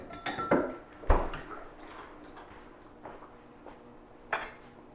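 Loaded corn chowder soup being ladled into bowls: a few clinks of ladle and dishes, scattered and moderately close, with soft scraping between the knocks and no talk.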